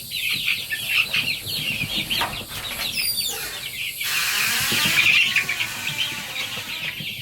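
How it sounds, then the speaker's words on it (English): Chickens cluck and flap their wings as they are moved around a homestead, with scattered squawks and a burst of rustling commotion close by. "You crazy chickens."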